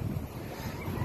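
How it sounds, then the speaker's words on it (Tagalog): Strong wind at a seaside fishing spot, buffeting the microphone in a continuous low rumble with uneven gusts, close and fairly loud, with no voices. "Mahangin talaga guys."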